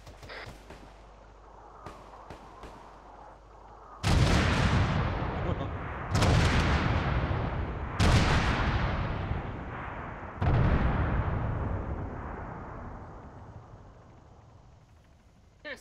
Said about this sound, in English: Mortars coming.